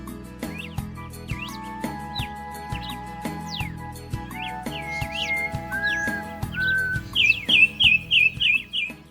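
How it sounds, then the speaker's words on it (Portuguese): Two jays call excitedly at a bird feeder in the Caatinga of Ceará, Brazil, with varied whistles, chirps and a closing run of sharp repeated notes over a busy chorus of other birds. "acabou de chegar 2 gralhas aqui, eu vou tentar filmá-las. Elas estão animadas vocalizando, hein?"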